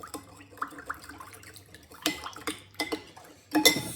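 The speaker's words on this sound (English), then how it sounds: "So just give it a bit of a stir." A spoon clinks and scrapes in a bowl while sugar is stirred into dry yeast, giving quiet, irregular taps with a few sharper knocks.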